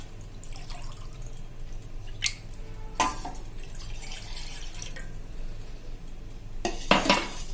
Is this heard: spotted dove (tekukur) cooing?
no